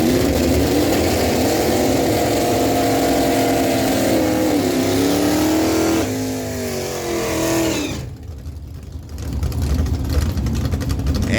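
A 1983 Monte Carlo with a 305 cubic inch engine makes a drag strip run, engine roaring loud as it revs and climbs through gears, then fading briefly before another surge of engine noise.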